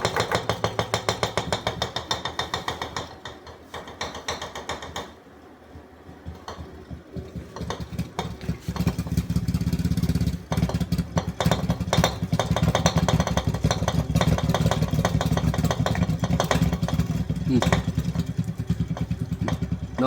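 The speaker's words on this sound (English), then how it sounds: "Now we are going to turn on the motor in open loop. This is the vibration caused initially." BLDC refrigerator compressor motor under load starts in open loop, producing a loud, rough pulsing vibration that dips briefly, then steadies into a dense, continuous rattling hum close by.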